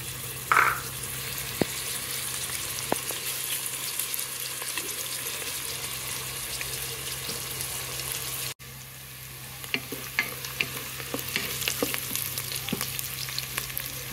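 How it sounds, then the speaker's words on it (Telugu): Onions and vegetables fry in a Geek Robocook pot with a steady, close sizzle throughout, broken by occasional scraping and stirring clicks. "ఉల్లిపాయ వేగిపోయిందండి."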